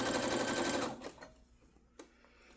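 Sewing machine stitching a 1/2 inch seam while attaching side facings on a zero waste top, a loud, close, rapid run of stitches for about a second, then stopping, with a soft click afterward.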